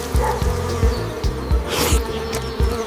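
A swarm of bees buzzes continuously around a tree beehive while a large bear climbs up and pulls out the honey, with a loud, close, steady drone throughout.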